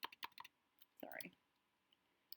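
Quiet clicks of typing on a computer keyboard come in a short quick burst, then a few scattered taps, with a brief faint voice between them.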